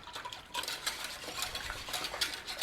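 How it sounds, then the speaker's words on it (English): A whisk scraping and clinking briskly against a bowl while mixing flour, salt, garlic powder and onion powder for country gravy, a steady fast rhythm close up. "Whisk."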